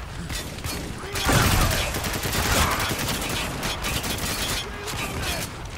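Heavy gunfire rattles in dense overlapping volleys in the shooter Spec Ops: The Line, with a louder blast near the start and mechanical clatter through the loud, close battle; the shotgun itself is not distinct.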